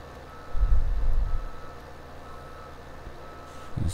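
A farm vehicle reversing in Landwirtschafts-Simulator 17, with a low engine rumble swelling briefly and a steady high reversing beep faintly underneath, ending with a short engine surge.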